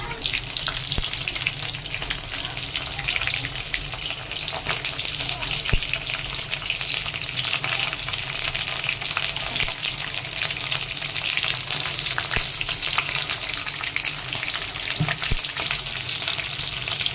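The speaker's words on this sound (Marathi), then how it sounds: "ह्या ज्या शिमला मिरच्या आहेत भरलेल्या त्या आपण आता तेलामध्ये सोडायच्या आणि मग ह्या बाकी सगळ्या मी तेलात सोडून घेते" Stuffed capsicums, filled with a fresh coconut and sugar stuffing, sizzle steadily in hot oil in a pan. The crackling hiss is loud and continuous, with a few sharp pops along the way.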